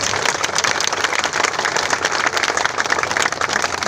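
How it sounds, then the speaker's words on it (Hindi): An audience applauds loudly and steadily at a Hindi patriotic poetry recital on national unity day, clapping in honour of APJ Abdul Kalam; the dense, continuous applause fills the whole stretch with no speech over it. "ये इतनी छोटी तालियां डॉक्टर APJ अब्दुल कलाम के लिए, इतनी छोटी तालियां।"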